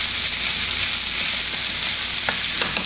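Cabbage fries in oil in a pan for chicken adobo, a loud, steady hiss of sizzling close up, with a few stirring scrapes near the end and no talking.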